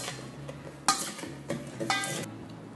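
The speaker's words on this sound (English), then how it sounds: "Toss it and taste." Thai beef salad (nam tok nua) being tossed in a bowl with fish sauce, giving soft stirring and clinking sounds with a few sharper utensil knocks against the bowl, close and moderately quiet.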